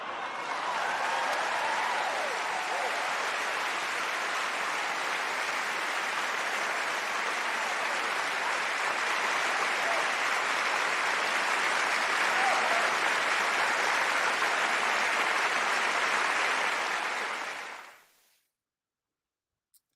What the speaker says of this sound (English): now I can give you your applause that you owed